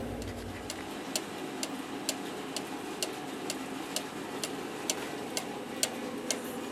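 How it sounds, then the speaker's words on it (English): A repaired cuckoo clock with a music box ticks in a steady, even rhythm of sharp, close clicks, quiet and alone with no other sound. "Here's Kim's clock."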